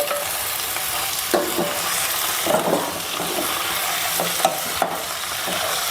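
Chicken tossed into softened onions with ginger, green chilli and garlic in a hot pan, a steady sizzle broken by a few scraping stirs and soft clatters, close and without voices.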